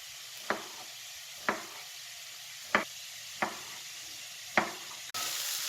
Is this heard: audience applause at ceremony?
no